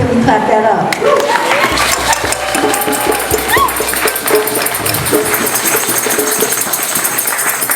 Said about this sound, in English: Can we clap that up?